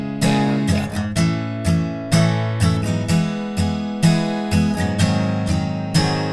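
Acoustic guitar strums the break of a song in steady downstrokes, a regular rhythm of bright, ringing chords played close and alone with no voice.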